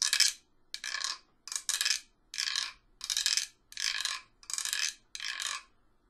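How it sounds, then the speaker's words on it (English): A guiro scraped with a small scraper in a children's music class gives eight rasping, ratchety strokes in a steady rhythm, each a short burst, close and clear with no talk. "Have you seen the guero before?"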